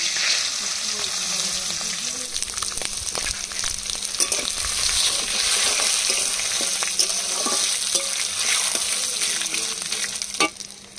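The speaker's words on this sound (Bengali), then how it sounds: "এবার তেলের মধ্যে দিয়ে দেবো তেজপাতা, শুকনো লঙ্কা, জিরা আর গরম মশলা।" Whole spices sizzle steadily in hot mustard oil in a kadai for khichuri: bay leaf, dried chili, cumin and garam masala crackle, with occasional stirring scrapes and a brief louder clatter near the end.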